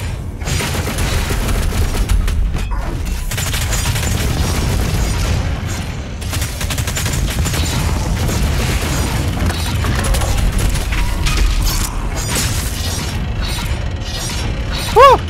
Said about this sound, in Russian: вот эта двустволка просто жжет напалмом, она очень крутая